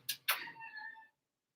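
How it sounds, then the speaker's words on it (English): A cat lets out a short meow, starting with a sharp onset and then trailing into a drawn-out harmonic cry that lasts about a second. It is fairly close and clear, with no talking over it. "I hear the cat."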